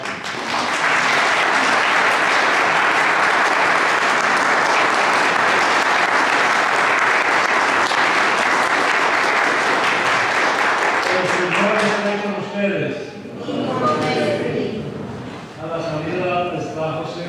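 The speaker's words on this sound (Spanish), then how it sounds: "Vamos a dar un fuerte aplauso." A church congregation at Sunday Mass gives long, dense applause that holds steady for about twelve seconds, then fades as a voice speaks over the last scattered claps.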